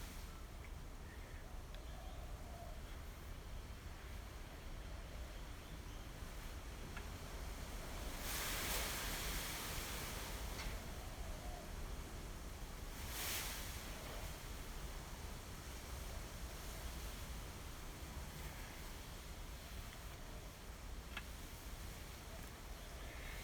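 An afternoon sea breeze blows in off the ocean, a steady broad rushing wash with two brief stronger gusts, faint and continuous with no voices.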